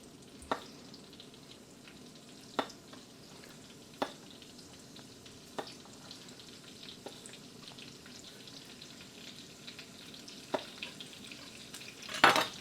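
Pepperoni frying over medium-high heat in a 10-inch cast iron skillet, a faint soft sizzle under quiet room tone, broken by a few sharp clicks and taps of a utensil, with a brighter scrape near the end.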